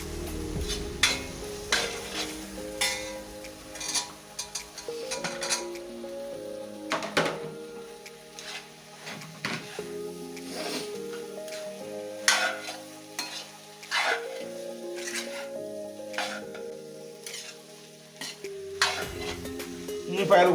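Chicken for Chicken Manchurian is stirred and fried in a pan, giving repeated scraping strokes of a spatula and clinks on the pan over a steady sizzle, close and continuous for about twenty seconds.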